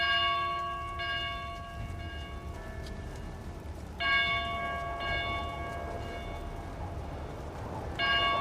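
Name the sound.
small church bell ringing in a belfry, from a video game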